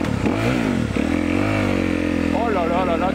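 A motocross dirt bike's engine revs close by, its pitch swooping up and down through a series of throttle blips, then wavering in quick warbles near the end.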